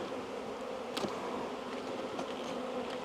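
Honey bees buzz steadily around an opened hive, a dense, continuous drone close by with faint clicks from the handling of hive frames, no talk.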